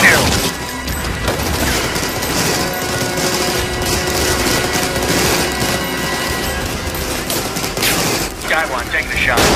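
Sustained heavy gunfire in an action movie battle, dense and continuous volleys with mechanical clatter filling the whole stretch, loud and close, with voices and radio chatter beneath.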